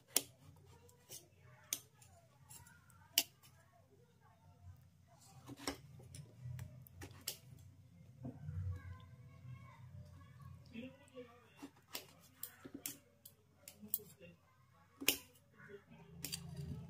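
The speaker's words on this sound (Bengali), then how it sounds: "এবার আমি এই বেগুনগুলোকে একটু এই সাইজ করে কেটে" A knife chops eggplant into pieces on a board, with irregular sharp ticking cuts spaced through the clip, close and fairly quiet over a low background hum.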